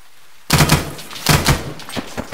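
Gunfire in the ArmA 3 military shooter game, a few loud close bursts of rapid shots with echoing tails, each one cut off by a short pause.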